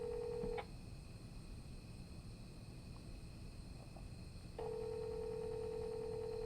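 A telephone call being placed, with steady ringback tones sounding at the start and again near the end, separated by a quiet stretch of line hiss, no voices.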